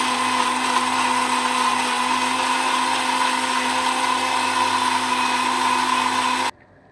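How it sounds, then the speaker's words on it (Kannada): A kitchen mixer grinder runs steadily, grinding roasted masala into a fine paste for mutton sambar, giving a loud, continuous motor whine with a sharp cutoff near the end. "ಇವಾಗ ಇದನ್ನು ರುಬ್ಕೊಳ್ಳೋಣ ಬನ್ನಿ ನುಣ್ಣಗೆ ಪೇಸ್ಟ್ ಫುಲ್ ಪೇಸ್ಟ್ ಮಾಡಿಕೊಂಡು"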